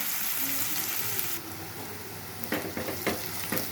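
Food frying in a pan as salt goes in, a loud steady sizzle that drops in level partway through, followed by a few scraping stir strokes.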